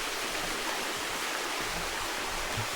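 Creek water flows steadily beneath a small bridge on a walking track near Granite Falls, a continuous broadband rushing wash, close and even throughout with no voices.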